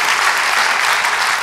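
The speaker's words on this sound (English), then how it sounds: "give him a round of applause" Loud, dense applause from an audience at a political gathering, continuous clapping close and filling the space with no break.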